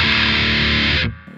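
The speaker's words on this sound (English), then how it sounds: "Let's turn on the tube screamer." Loud, dense distorted guitar noise through a Tube Screamer overdrive pedal, a sustained saturated roar that cuts off abruptly after about a second into a quieter hum.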